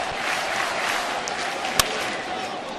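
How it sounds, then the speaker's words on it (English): A crowd at a baseball game in Pittsburgh roars and cheers in a continuous wash of distant noise, with a single sharp crack standing out partway through. "The cheer you're hearing here in Pittsburgh."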